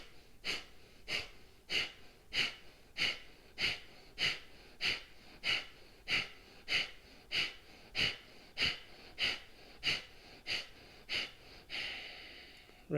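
Rapid rhythmic breathing exercise through the nose during a yoga session, about twenty sharp, evenly spaced nasal exhalations at roughly one per second, close and clear, ending with a softer longer breath.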